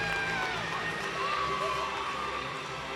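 Crowd at a college gymnastics meet between Clemson and UNC cheering and shouting steadily after a routine on the bars, a continuous mid-distance roar with some voices standing out.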